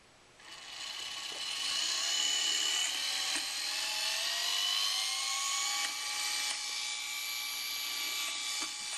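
A small gear motor powered at about 12 volts drives a Geneva wheel mechanism, starting up with a steady high-pitched whir that runs smoothly and continuously at close range.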